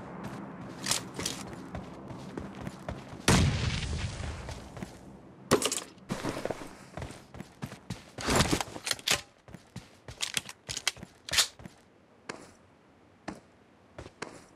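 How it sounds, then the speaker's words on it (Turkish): A grenade is thrown and explodes in PUBG Mobile on the Sanhok map. A heavy, booming blast stands out among scattered sharp taps, clicks and footstep-like knocks. "Şuraya bir bomba atacağım."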